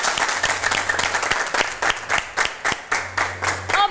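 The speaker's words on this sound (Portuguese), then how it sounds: "Então, salve de palmas para vocês e obrigada." Audience applause at a festive show, a dense round of clapping from a crowd with sharp individual claps standing out, steady and fairly loud throughout.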